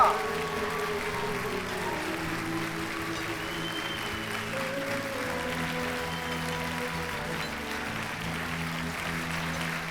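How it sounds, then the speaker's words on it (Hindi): Loud applause for Mariam at a staged event: steady, continuous clapping from a crowd that carries through at an even level, with music or tones beneath it. "मरियम साहिबा के लिए जोरदार तालियां।"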